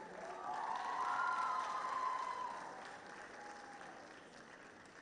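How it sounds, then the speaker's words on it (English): An audience at a Model United Nations conference applauds a school's representative, with clapping and some cheering that swell and then fade over a few seconds, heard faintly and from a distance. "Please, a round of applause for their representative."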